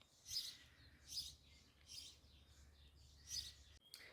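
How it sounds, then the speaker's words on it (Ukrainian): Birds chirping outdoors in short bursts, four or five bright tweets spaced about a second apart, with a steady low hum underneath. "Пташечки співають."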